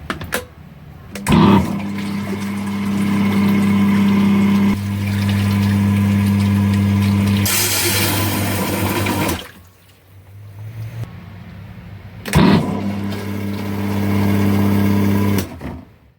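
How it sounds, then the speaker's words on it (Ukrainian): An impeller pump transferring sunflower oil through a reinforced hose runs with a steady, loud mechanical drone, cutting off briefly near the middle before restarting and droning on, with sharp clunks at each start. "Щойно ви побачили, як імпелерний насос справляється з соняшниковою олією"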